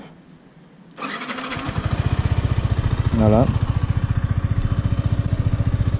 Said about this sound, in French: Voilà, là je la démarre.